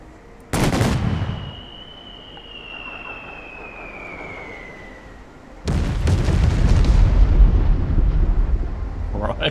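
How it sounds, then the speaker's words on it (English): Destroyer bombard shelling in Company of Heroes 3 (WWII strategy game): a sudden heavy blast, a descending whistle of incoming shells, then a sustained rumbling barrage of deep explosions. "Select the destroyer. And then click the bombard ability."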